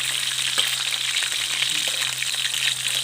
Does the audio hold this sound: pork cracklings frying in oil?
yes